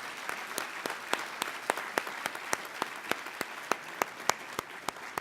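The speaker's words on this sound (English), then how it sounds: "please join me in giving another round of applause to all of our speakers" An audience at a healthcare conference applauds its speakers, a dense, steady patter of many hands clapping with a few sharper claps standing out, no voices over it.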